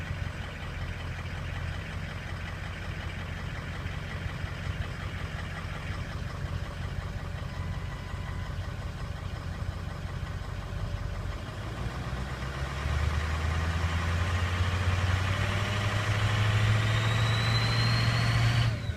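A 2003 Ford 6.0 Powerstroke diesel engine idles steadily in enhanced mode, a continuous low rumble with a rattling clatter, growing slightly louder and deeper in the second half, with no talk.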